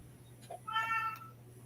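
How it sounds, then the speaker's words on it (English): A house cat gives a single short meow indoors, fairly close and clear against a quiet background with a low steady hum. "I heard a kitty."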